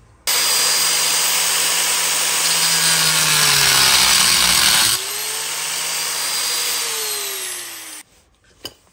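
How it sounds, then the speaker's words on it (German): A loud, sustained angle grinder whine cuts into the metal axle of a Hase Kettwiesel recumbent trike for about eight seconds, dipping briefly in pitch midway, then cuts off abruptly before a single faint knock. "Ich werde jetzt einfach mal hier mit der Flex einen Cut reinmachen"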